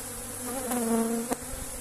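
Honey bees swarm-buzz around an opened hive packed with brood frames, a steady close drone with rising and falling pitch and a brief louder pass near the end.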